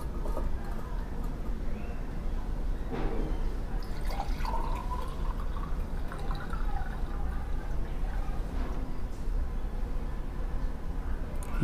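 Blue nitric acid solution, left after coins were soaked in it, is poured into a glass, giving soft trickles and drips of liquid over a steady low background, with faint voices now and then.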